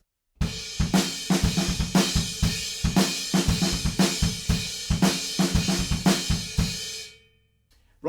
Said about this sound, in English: and then moves on to the crash cymbal